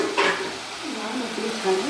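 Onions fry in oil while being stirred in a pan, a short close burst of sizzling with scraping strokes and a soft clink.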